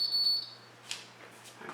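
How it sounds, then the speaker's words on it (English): Small alarm buzzer sounding in a simple circuit demonstration when wires touch, a faint high-pitched tone for under half a second, followed by quiet clicks and handling noise. "alarm sound."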